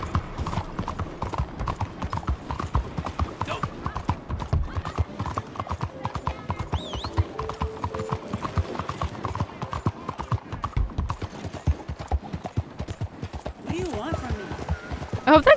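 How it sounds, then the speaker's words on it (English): Horse hooves clip-clop steadily and quickly while riding in the Red Dead Redemption 2 video game, a continuous rhythmic gallop heard close, with a brief whinny and someone talking over it. "I'm not about riding my horse very slowly in these parts."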